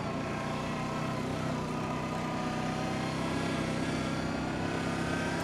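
Arctic Cat Diesel 700 with a liquid-cooled twin-cylinder engine held at full throttle, giving a steady, loud, droning roar that stays constant throughout with no pauses.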